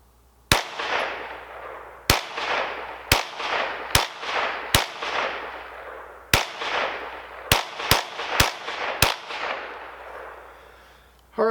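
Ten sharp shots from a CMR 30 rifle firing Federal 50 grain ammunition crack out at uneven intervals outdoors, each loud report trailing off in a ringing echo.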